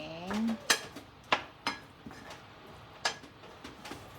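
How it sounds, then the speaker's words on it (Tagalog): Pinakbet vegetables being stirred in a pan, with a series of sharp clinks and scrapes from a utensil against the pan at an irregular rhythm, fairly close and moderately loud. "Hahaluin na po natin siya bago natin ilagay yung kamatis. Mix it well"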